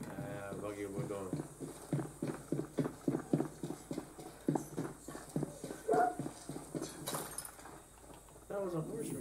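Horse hooves clip-clopping in the shooter game Far Cry 6, a steady run of close, regular hoofbeats beneath voices talking over them.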